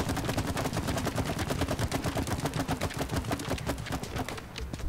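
Rapid automatic gunfire from the video game It Takes Two rattles in a steady, dense burst of loud shots lasting nearly five seconds, easing slightly at the end.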